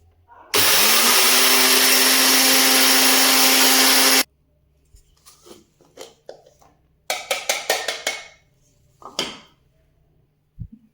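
Mixer grinder whirs loudly at a steady pitch for a few seconds while grinding spices into powder, then stops abruptly; clattering of the jar and lid follows in short bursts.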